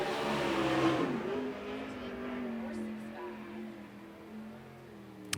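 Sprint car on a qualifying lap at Central Arizona Speedway in a USAC Southwest event, the engine roaring loudly at first and then fading to a steady, more distant drone as the car moves around the track.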